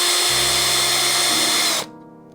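A power screwdriver whirs steadily at close range, backing screws out of the side panel of a Moog Sub Phatty synthesizer, then cuts off abruptly.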